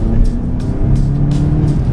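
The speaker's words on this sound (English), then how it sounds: "You can hear it blow off, and you can hear the spool now." A modified car's engine hums closely while a turbo blow-off hisses in short repeated bursts, with a faint whistling spool rising beneath them.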